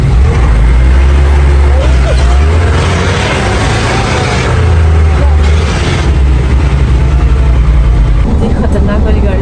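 A bus engine drones low and steadily during a ride, with constant road rumble throughout and voices talking over it.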